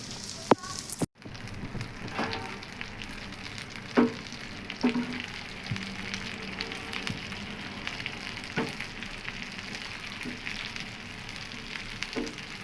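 Okra frying in a pan, a continuous soft crackling sizzle with occasional sharper pops and a clack near the start, at moderate loudness with no talking.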